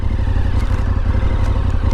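Sport bike engine droning steadily on an open road, a continuous low rumble and whir with no distinct pass-by swell, close and fairly loud throughout.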